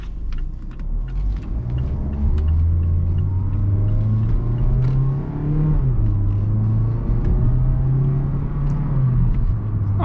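A 2019 Mazda CX-3 GS with a non-turbo 2-liter four-cylinder engine in sport mode pulls away through a right turn, the engine note climbing steadily, dipping briefly at a shift, then rising again under a constant road rumble.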